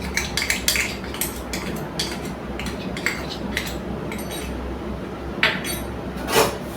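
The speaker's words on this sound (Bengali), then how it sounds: "গ্যাসের ফ্লেমটাকে মিডিয়ামে রেখে আমি কন্টিনিউ নাড়তে থাকবো।" A spoon scrapes and clinks steadily against a pan as raw mango jelly is stirred, making quick repeated metallic taps close up, with a couple of louder knocks near the end.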